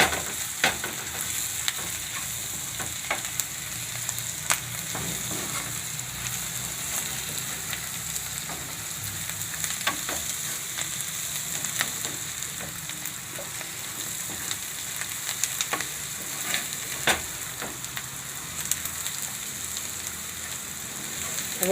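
Onion khariyu with chilli, coriander and spices fries and sizzles in a pan, a constant crackling hiss broken by repeated scraping stirs of a spoon against the metal, close and steady throughout.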